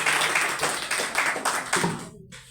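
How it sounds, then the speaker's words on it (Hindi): An indoor audience at a product demonstration claps in quick, dense rounds nearby, then the clapping breaks off abruptly near the end. "तो एक बार तालियां आप इसके लिए बजा सकते हैं।"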